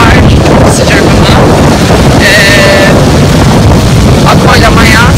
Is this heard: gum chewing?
no